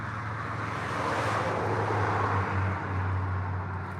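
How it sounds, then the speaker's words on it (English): Steady road traffic noise beside an Ontario fishing spot, a continuous close wash of passing car and engine rumble with a low hum and wind, no voices. "Only thing I could change is the traffic noise."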